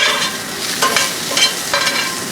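Gulf shrimp blackening on a very hot pan, a loud steady hiss of searing with a few rhythmic surges of stirring or scraping, close and without voices.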